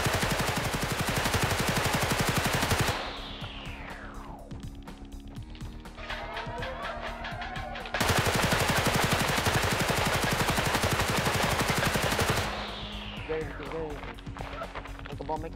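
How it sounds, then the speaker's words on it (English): Machine gun fire in the video game HELLMET rattles in long, dense sustained bursts, loud and continuous, broken by a quieter mechanical interval with a gradual sweeping whine between volleys. "he got a machine gun"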